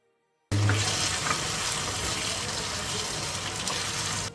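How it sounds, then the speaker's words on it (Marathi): Tomatoes hit a pan of frying golden-brown onions and potatoes, a sudden loud, steady sizzle that starts abruptly and holds evenly to the end. "यात आता आपण टोमॅटो घालून घेऊया."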